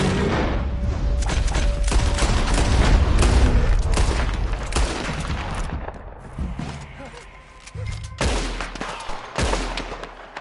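Western-frontier gunfire from Red Dead Redemption 2, a loud barrage of overlapping shots and booms that thins into scattered separate cracks, with shouting voices mixed in.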